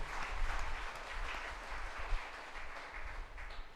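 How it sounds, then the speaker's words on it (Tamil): A church congregation clapping together in thanks to God, a dense burst of many hands applauding at a distance, fairly faint and steady. "கைத்தட்டி ஆண்டவருக்கு நன்றி சொல்லுவோம்."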